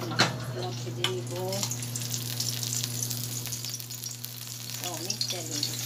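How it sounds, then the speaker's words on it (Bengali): Fish frying in hot oil makes a constant close sizzle over a steady low hum, with a few sharp spatters and brief faint voice-like sounds in the background. "মাছের তেলটা দিয়ে দিব, দিয়ে মাছগুলো ভেজে নিব।"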